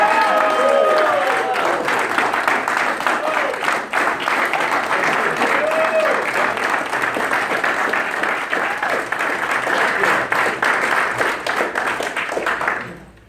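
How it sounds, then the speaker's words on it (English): A crowd at a business gathering gives a long, loud round of applause welcoming Mr. New Jersey, Joe Occhiogrosso, to the stage. The dense clapping holds steady for about thirteen seconds, with scattered cheers and voices mixed in before it fades at the end. "So give a big, big round of applause for Mr."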